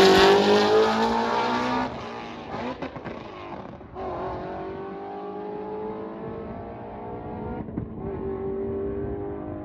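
A turbocharged K24-swapped GD Honda Fit accelerates hard in third gear on a highway on-ramp, its engine loud and rising steadily with brief dips at shifts and lifts, close and without talk.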